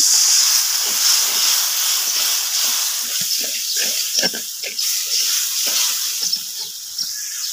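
Spice masala frying in a pan for a fish roe bhuna sizzles and hisses steadily as a little liquid gravy is added, a continuous close bubbling hiss with soft pops, no talking.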